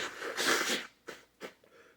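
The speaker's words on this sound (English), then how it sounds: "mama say don't never blow your nose on camera" A person blows their nose up close with one long, forceful burst of breathy honking, followed by two shorter sniffs or puffs.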